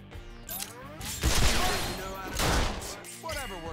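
Gunfire in the video game Resonance of Fate comes as dense, rattling volleys in two loud bursts, mixed with game music and someone talking over it.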